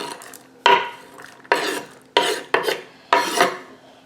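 Chopped peppers and onions tipped into an egg mixture for air-fryer egg bites, giving four sharp, close scraping clatters of a utensil against a bowl, each fading into a short rasping stir.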